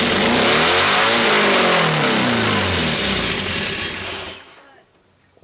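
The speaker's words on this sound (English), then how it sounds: "When it starts to rev up, go ahead and let some off the gas." An engine catches on its first startup and revs hard, a loud, rising and falling roar that holds for about four seconds, then cuts off abruptly into near silence.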